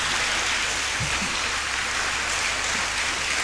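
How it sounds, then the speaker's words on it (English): Applause from a lecture audience at a memorial lecture, a steady broad wash of clapping filling the whole stretch at moderate level with no voices over it. "Another round of applause."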